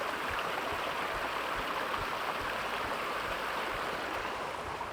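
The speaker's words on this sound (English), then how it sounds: "We've already come to our first little waterfall." A small waterfall on the Dan Moller hiking trail on Douglas Island pours as a steady, close, full rushing of water, constant and even with no voices.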